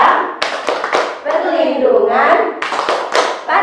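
A group of women at a child protection counseling session claps in sharp, rhythmic bursts while chanting a children's rights chant, with voices singing and speaking between the claps, close and loud.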